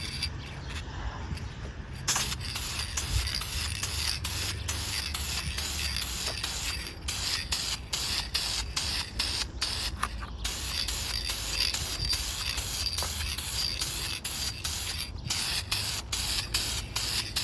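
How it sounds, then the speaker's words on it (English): A UV protectant spray can hisses steadily in long close bursts while coating a lawn ornament, broken by brief pauses and small clicks of the nozzle. "we want to make sure that the spray is coming out properly and efficiently"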